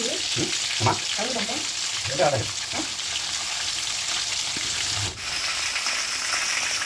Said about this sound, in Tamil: ஒரு பக்கம் பரட்டி விட்டு மறுபக்கம் பொறிச்சு எடுத்து